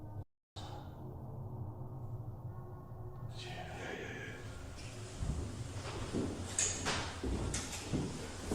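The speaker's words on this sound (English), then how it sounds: "I heard a door, like you know, when it just about to close." A door in an abandoned building scrapes and swings toward closing, with a few dull knocks and rattles over a steady hollow background hiss, moderately close.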